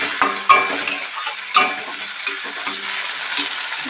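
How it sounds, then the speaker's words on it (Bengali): Chopped tomato frying in a pan with onions for Bengali egg bhurji, with a close, steady sizzle broken by a few sharp spatula knocks and scrapes against the pan. "ভালো করে ভেজে নিতে হবে। এর মধ্যে আমি দিয়ে দেবো টমেটো কুচি,"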